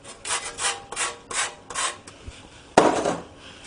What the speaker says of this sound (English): I've got a lemon, which I'm just going to zest a little bit of the zest off.